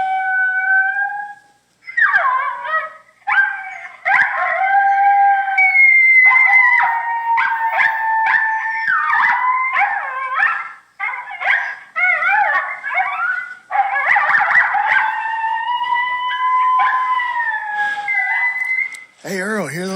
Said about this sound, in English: Yeah, I think that's just a pack of coyotes, buddy.